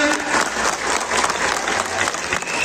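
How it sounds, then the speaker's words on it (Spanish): Crowd applause for both teams at a tournament final in San Juan Teposcolula, sustained, dense clapping from spectators, moderately loud and continuous. "El aplauso en esta gran final."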